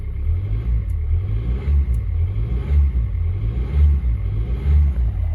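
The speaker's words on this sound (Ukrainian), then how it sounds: "І зараз погазую." A Hyundai Accent 1.5 CRDi diesel engine, drive belt removed, idles low and then revs up in repeated surges, a deep rumbling rhythm of rising and falling throttle, close and without talk.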